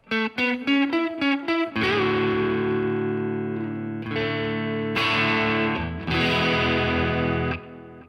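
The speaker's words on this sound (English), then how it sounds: "Just a nice little subtle delay there." An electric guitar through a Fender Tone Master Pro plays a quick run of notes, then sustained chords ringing out with a subtle delay's gentle echoing repeat trailing each strum, no voices.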